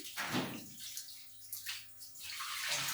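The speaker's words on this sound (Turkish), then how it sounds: "Böyle suda bir yıkayıp tertemiz Gidermek istiyorum her şeysini." Chicken or meat rinsed under running water in a kitchen, a close splashing stream that rises and falls as the piece is turned beneath it, with no talk.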